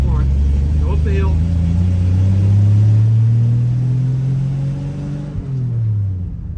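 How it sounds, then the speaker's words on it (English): An old 300,000-mile farm truck engine pulls uphill in second gear, a loud, close, steady low rumble that rises slightly in pitch before easing off near the end, with a voice speaking briefly over it. "We go down to second. Alright, we're in second. Let off the clutch."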